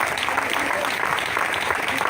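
A church congregation applauding during a sermon, a thick, loud wash of many clapping hands with crowd murmur mixed in, continuous across the short stretch.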